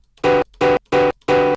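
A piano pushed into heavy saturation distortion clips into a harsh square-wave buzz. Four short, evenly spaced bursts of identical length sound loud and alone, with silence between them.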